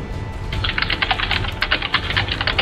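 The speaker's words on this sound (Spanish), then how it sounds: "es que es el ruido que hace el teclado de per se" Rapid, hard clacking of a computer keyboard being hammered during a League of Legends livestream, dense irregular keystrokes close and loud, starting half a second in and continuing to the end with no talking.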